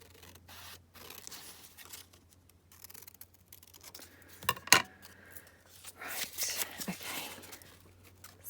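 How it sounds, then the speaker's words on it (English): Scissors snip through material for a Christmas craft project, giving a few scattered close cuts and small scrapes with a louder rustling cluster near the end, over a steady low hum. "So yeah, let's just cut that down here."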